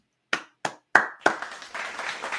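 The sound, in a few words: applause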